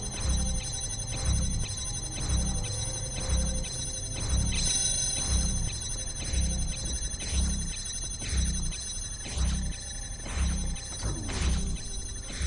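Rhythmic electronic pulsing from a force field cycling on and off in the puzzle game The Talos Principle, a steady repeating beat with bright ringing tones, continuous and moderately loud with no talking.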